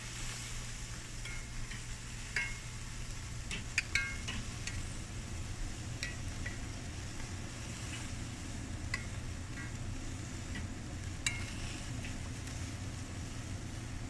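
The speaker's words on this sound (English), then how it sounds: "Keep them moving a little bit. We don't want them to burn." Sausages and peppers sizzle steadily in a pan at a low, even level, with a few scattered clinks and scrapes as the pieces are moved about.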